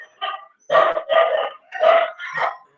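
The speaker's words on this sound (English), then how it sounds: "there's a lot of noise from your dog" A dog nearby gives a run of about five loud, drawn-out barks with short gaps between them.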